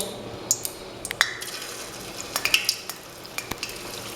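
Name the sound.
semolina gulab jamun frying in oil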